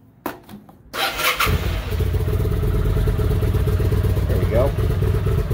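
A 2006 Kawasaki Drifter 800 cruiser motorcycle cranks and catches, then settles into a loud, steady, slightly uneven idle that sputters and chokes a little, with someone speaking briefly over it.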